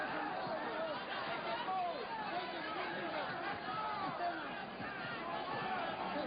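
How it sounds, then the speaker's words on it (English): Boxing arena crowd during a super featherweight world title fight, a steady dense roar and chatter of spectators throughout, fairly distant and continuous without clear breaks. "See, the crowd roars over those"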